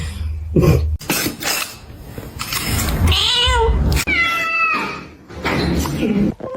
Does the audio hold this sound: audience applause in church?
no